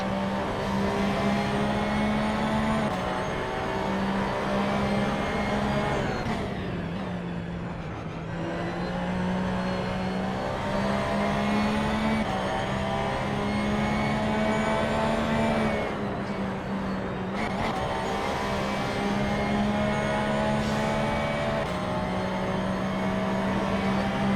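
Race car engines, a Porsche among them, roar continuously through the Laguna Seca circuit in a Gran Turismo video game race, the loud, close drone dipping and climbing again as the cars shift gears and brake into corners.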